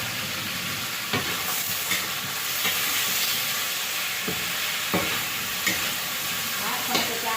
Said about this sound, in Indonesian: Kalau kita tumis brokoli itu sebentar banget